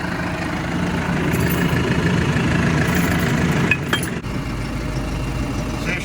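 Unimog truck engine idling steadily ahead of towing a trailer, a continuous low diesel rumble held throughout, close and fairly loud with a brief clunk partway and no talk.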